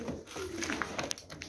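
Pigeons kept in a breeding loft coo softly and close by, a low murmuring call over a hissy background with a few faint clicks and no speech.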